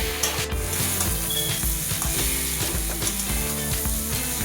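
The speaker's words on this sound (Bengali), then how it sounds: "আবারও সব কিছু ভালো করে নেড়ে চেড়ে কষিয়ে নিচ্ছে।" Spices with turmeric powder frying in oil in a pan for a vegetarian Bengali lunch, a dense loud sizzle under constant rubbing and scraping of a spatula stirring the mixture.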